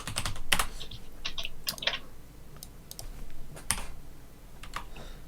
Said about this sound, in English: This hash key on this keyboard's annoying me now.